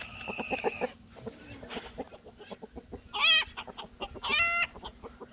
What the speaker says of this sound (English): That rooster just tried to beat up Juju.